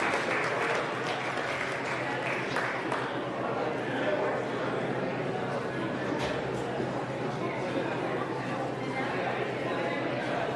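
Steady applause from an audience at a goat show during an annual achievement day, crowd-wide clapping that holds for about ten seconds with voices mixed in underneath.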